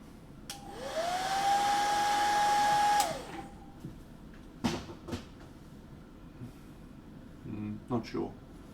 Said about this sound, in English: a little bit more hairdryer on that Mod Podge